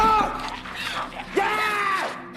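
A man screams in terror as zombies seize him in the Korean zombie film Alive (2020), his loud, strained cries rising and falling across two bursts with some background commotion.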